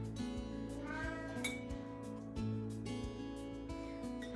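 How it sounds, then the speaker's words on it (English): Saturn, a Hawaiian house cat, meows repeatedly and close by in a kitchen, a series of short talkative calls with brief pauses between them. "that's Saturn, the Hawaiian cat that's here living with me now"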